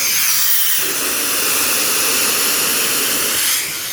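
A loud, steady high-pitched hiss of an upholstery cleaning tool spraying runs nearly continuously, then cuts down toward the end.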